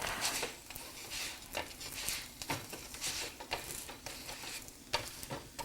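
Indian flatbread frying in oil or ghee on a pan, a soft patter of sizzling with light scraping and stirring sounds, faint and close.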